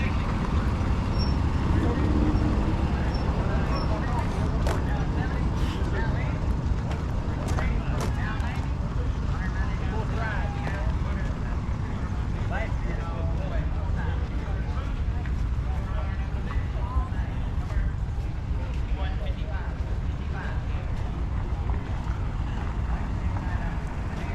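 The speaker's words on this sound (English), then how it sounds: "It's a big old tractor. 8430 John Deere." A big old John Deere 8430 tractor runs at a threshers reunion at a farm park, its steady low engine rumble continuing throughout alongside outdoor crowd noise, with people talking nearby.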